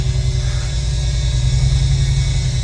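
The engine of the world's largest fire engine, restarted after sitting unused for a long time, runs at a steady idle with a deep, loud low rumble and a faint buzzing hum, with no talking.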